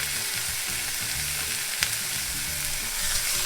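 Burger patties sear on a flat griddle for an In-N-Out style Double-Double, a loud steady sizzle throughout with a brief scrape or clank as they are turned.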